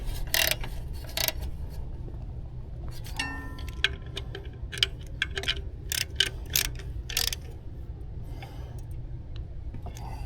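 Socket wrench ratcheting on a Honda Accord, sharp metallic clicks in quick irregular bursts, close and fairly loud over a low steady hum, with no speech.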